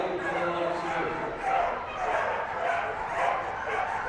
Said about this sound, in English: Listen to the racket from the dogs.